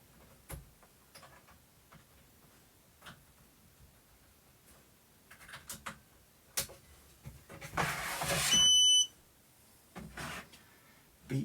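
A short burst of electronic beeping rises out of quiet room noise and light tapping, a cluster of high steady tones lasting about a second.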